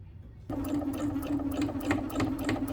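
A sewing machine top-stitches along a blanket edge, starting abruptly after a brief quiet moment and then running steadily with a rapid, close mechanical whir and ticking.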